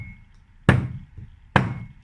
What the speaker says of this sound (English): I'm currently hitting the iron screw